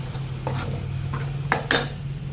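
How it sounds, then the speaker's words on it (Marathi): Masala paste frying in oil while being stirred, a faint sizzle under a few distinct scraping and clinking strokes of a spoon against the pan, close by. "छान मिक्स करून घ्यायचं आणि याला तेल सुटेपर्यंत हलवत राहायचं"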